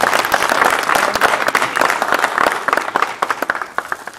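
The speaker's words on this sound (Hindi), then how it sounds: "कम से कम तालियां बजाइए" Audience at a mushaira poetry gathering breaks into loud, close applause, first a dense burst of many hands, then thinning into scattered individual claps by the end.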